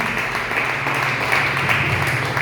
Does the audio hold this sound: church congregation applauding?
yes